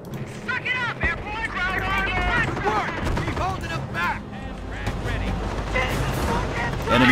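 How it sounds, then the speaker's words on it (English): Gunfire crackles in the Company of Heroes strategy game as a machine gun opens up, dense bursts and distant shots layered throughout with spoken voices over the battle. "MG gunner up and firing."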